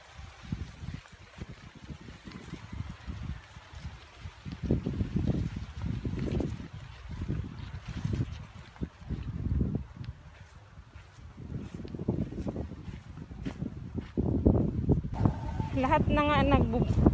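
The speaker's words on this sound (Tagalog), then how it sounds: "Sobrang hangin dito." Strong northeast monsoon wind buffets the microphone in a corn field, roaring in uneven gusts that swell and ease, and a faint voice appears near the end.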